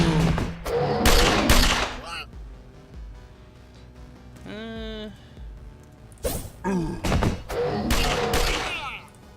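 A conventional grenade thrown in The Pit video game bursts in sharp, loud blasts amid rattling gunfire and other game effects, with a few brief tonal sounds in between.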